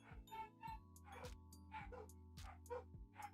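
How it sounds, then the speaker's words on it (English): Dogs barking at a neighbor in a quick run of sharp yips and barks, close and fairly loud, repeating at an uneven rhythm over a steady low hum. "My dogs were barking at nothing."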